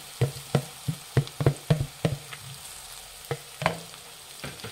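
Mashed potato is stirred into fried onions in a sizzling pan, with about a dozen sharp scraping strokes of the spoon in quick, uneven rhythm over a soft, continuous frying hiss.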